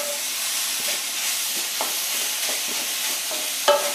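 A spoon scrapes and stirs coconut and jaggery filling for modak as it sizzles softly in a pan, with steady hissing and occasional light knocks against the metal.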